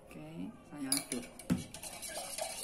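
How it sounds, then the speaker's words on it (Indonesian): A spoon stirring Qahvi coffee in a cup, with several light clinks and scrapes against the cup close by, while a quiet voice speaks briefly at the start. "Saya aduk."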